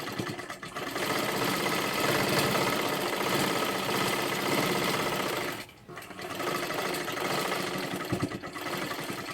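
Sewing machine running steadily while double-stitching the sleeve seam of a kurti, a loud continuous mechanical whir with one brief pause near the middle before resuming.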